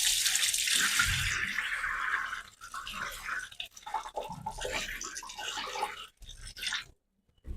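Water pours and splashes through a sieve holding soaked wheat in a close, steady stream that breaks into short gaps before stopping near the end.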